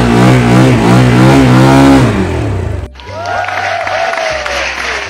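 A Barton Blade-R 125cc sport motorcycle engine revs hard and loud up close, then drops and rises again in rising and falling pitch sweeps.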